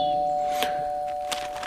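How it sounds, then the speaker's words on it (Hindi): A doorbell sounds twice, two short bright rings about a second apart over a steady electronic hum, with no one speaking. "तभी दरवाजे की डोरबेल बजी।"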